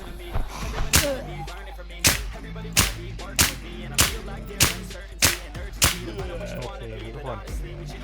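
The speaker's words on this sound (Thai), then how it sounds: "เราจะยิงประมาณเออสิบนัดก็พอนะทุกคนประมาณสิบตัวนะ" Gunfire in the video game Warz AfterLand: about ten sharp, loud single shots spaced irregularly, one every half second to second, over a background of game music.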